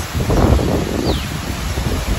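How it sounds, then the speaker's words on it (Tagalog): Wind gusts through the trees of an Auckland park, a close, steady rushing rustle of leaves with a gentle swell, no one speaking. "Kung naririnig nyo yung hangin"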